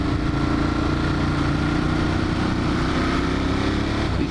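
A Ducati Monster 1200 motorcycle on the move gives a continuous, even engine drone with a low throbbing rumble, steady and close throughout.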